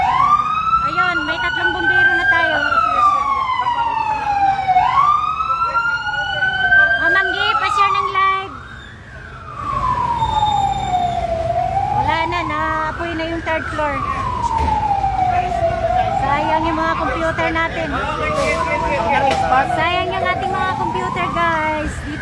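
Several fire truck sirens wail together in rising and falling sweeps, loud and close, with traffic rumble and a few voices underneath, responding to a fire at a school campus.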